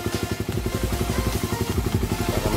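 Motorcycle engine left running to recharge its battery, a steady close idle with a quick, even pulsing putter throughout, no voices.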